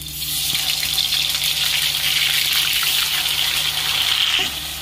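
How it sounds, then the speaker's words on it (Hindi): Onion paste dropped into hot oil for a chicken curry, giving a loud continuous sizzle and hiss that holds steady for several seconds before cutting off. "प्याज का पेस्ट डाल दीजिए।"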